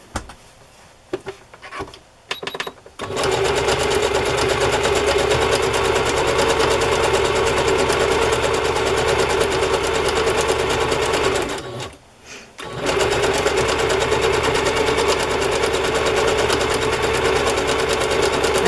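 A sewing machine stitching fabric for a journal cover with small stitches, starting after a few brief clicks and running loud and steady for about nine seconds, pausing briefly, then running on again, close and alone.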